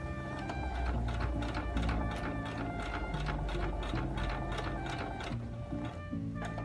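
A sewing machine stitches a zippered pouch with an embedded zipper, running in a fast, steady mechanical whir with rhythmic needle clatter and slight speed changes, close and alone.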